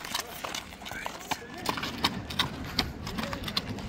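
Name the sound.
young horse walking, hooves clip-clopping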